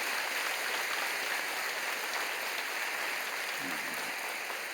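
A church congregation at a prayer meeting claps in encouragement, a sustained, even patter of applause heard throughout at moderate loudness without speech.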